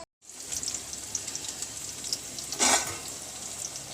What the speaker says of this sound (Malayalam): കറിയൊക്കെ തിളച്ച്